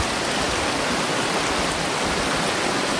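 Water rushes through a gold prospecting sluice box in cold weather, a loud, dense, continuous wash of flowing water with no pauses.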